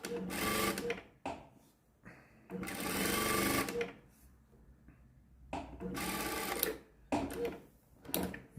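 A Prosew PS-1987A touch-screen sewing machine runs in loud bursts of rapid mechanical stitching, pausing between runs with quieter clicks and shifts as it works through a box pattern.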